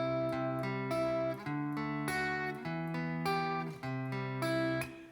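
Bass layer of a riff played on electric guitar through the neck pickup and captured on a looper pedal: steady sustained low notes changing every second or so, close and clear with no talking.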